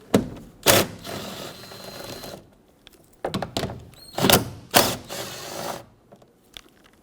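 Nuts on a side mirror of a 1995-2004 Toyota Tacoma are worked loose, giving repeated ratcheting clicks and short mechanical bursts, close up, with a few knocks and pauses between spells.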